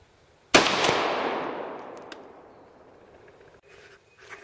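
A single sharp rifle shot from a 55 grain 5.56 round strikes a stack of ceramic tiles, giving a loud crack followed by a long decaying ring. A few faint clinks and rustles come near the end.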